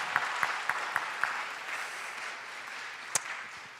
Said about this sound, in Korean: 영광의 박수 부탁드릴게요.